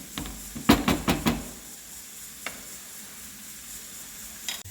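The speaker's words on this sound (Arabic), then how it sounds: "ونخلط مزيان، نخليه نغطي عليه ونخليه يطيب." Chicken filling for mini quiche is stirred in a pan: a quick series of about four scraping strokes, then a soft, steady sizzle with an occasional faint scrape.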